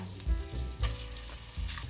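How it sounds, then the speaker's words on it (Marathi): Ground masala paste for dhaba-style paneer masala sizzles and spatters as it roasts in hot oil, with a few louder bursts as it is stirred. "5 मिनिटे आपण तेलामध्ये हा मसाला छान भाजून घेणार आहोत।"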